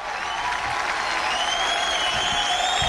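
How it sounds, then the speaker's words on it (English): A comedy show crowd applauds and cheers, a dense continuous roar of clapping with whistles and shouts rising over it, held at steady volume. "The crowd went crazy."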